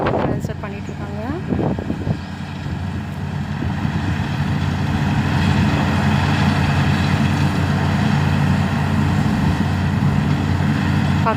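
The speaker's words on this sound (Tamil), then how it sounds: "அந்த டிராக்டர் ஃபுல்லாக நெல் கொட்டிகிட்ருக்காங்க பாருங்கள்." Tractor and paddy harvesting machine running at a rice harvest, a steady loud engine drone with wind noise across the whole stretch and a voice speaking near the start.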